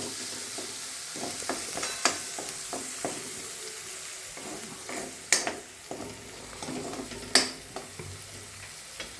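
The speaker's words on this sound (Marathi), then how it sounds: "थोडासा तो बारीक केलेला आहे लसूण, तो कांद्याबरोबर छान परतून घ्यायचा।" Finely chopped garlic frying with onions in a pan, a steady close sizzle broken by repeated stirring scrapes and clinks of a spoon against the pan.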